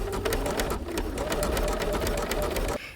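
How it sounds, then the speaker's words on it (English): A sewing machine stitching fabric for a box, a fast, even needle rattle that runs steadily at close range and stops abruptly near the end. "So the needle's just right at the end, and start stitching."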